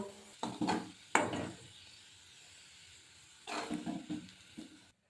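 Fried onions strained out of hot oil: a few scraping, clattering bursts of a utensil in the pan over a soft hiss, with a quiet gap between them before the sound cuts off.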